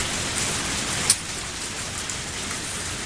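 Steady rainfall in a video game, a dense hiss of drops pouring down like a small waterfall, fairly close and continuous, with one sharp click partway through.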